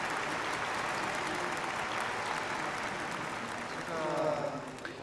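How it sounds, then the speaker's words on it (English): An audience at an anniversary celebration claps in a steady, moderately distant wash of applause, with a faint voice or tone briefly surfacing near the end. "let us give another round of applause to express our gratitude to our true parents"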